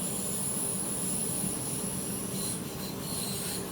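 A DB BR442 electric train runs on the Mittenwaldbahn in Train Simulator with a quiet, steady rolling rumble and faint high tonal whine, heard alone.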